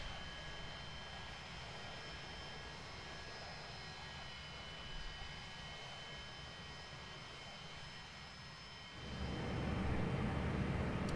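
Jet airliner departing in the X-Plane 11 flight simulator, a distant steady engine whine that swells abruptly into a loud, close roar near the end, with no talking.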